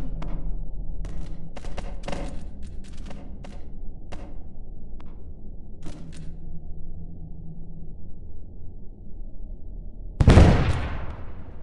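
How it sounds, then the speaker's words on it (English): Gunfire in a video game pops in scattered quick bursts over a low steady rumble, ending with one loud bomb blast near the end. "Another bomb on the way."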